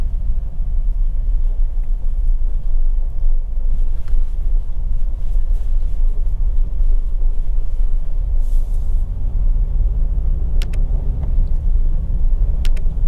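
Car driving from a smooth asphalt stretch of the Mumbai–Goa highway NH66 onto a broken road surface, a loud, constant low engine and tyre rumble heard from inside, with occasional light bumps and rattles toward the end.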